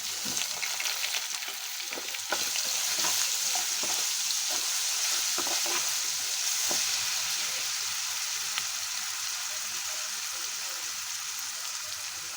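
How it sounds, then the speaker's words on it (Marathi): Ginger garlic paste frying with golden-browned onions in a pan for a raw banana curry, a continuous close sizzle with stirring scrapes and clatters throughout. "यामध्ये आता आपण लसूण अद्रकची पेस्ट टाकणार आहे."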